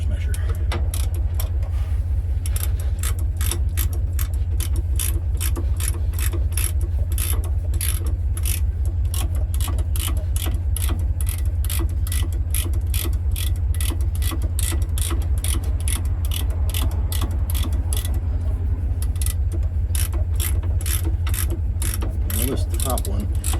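Ratcheting wrench clicking steadily as it turns a nut on a truck's disc brake chamber, a fast continuous train of sharp ticks over a low mechanical hum, close and even throughout.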